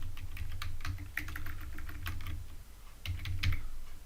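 Rapid clicking keystrokes on a computer keyboard as login username and password details are typed, in quick irregular bursts with a short pause midway, close and steady with low hum underneath.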